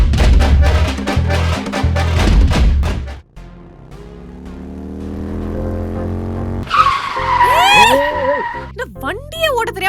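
Tyres squeal loudly as a car skids to a sudden stop, a sharp rising screech following a burst of busy sound, with excited voices and shouts breaking in at the end.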